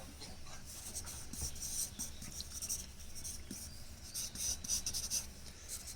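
A pencil draws on paper, soft close scratching and rubbing strokes in irregular bursts of short shading marks over several seconds, quiet with no talk.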